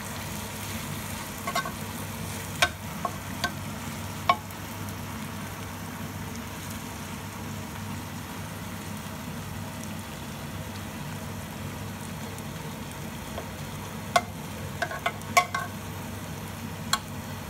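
Onions and meat juices for Senegalese chicken yassa stirred and frying in a pan over high heat, a steady low sizzle with occasional clicks of the utensil scraping the pan.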